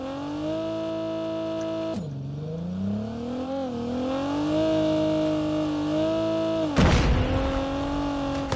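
A vehicle engine in the game Call of Duty Mobile drones and revs, its pitch dipping and rising as it shifts, with a sudden rough burst of noise late on; no speech.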